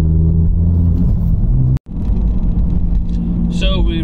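A BMW 4 Series 420d and tuned BMW 1 Series 114i and 116d Stage 1 hatchbacks accelerate hard in a race, their engines rumbling loudly with rising revs and a brief cut near the middle, while a voice talks over it.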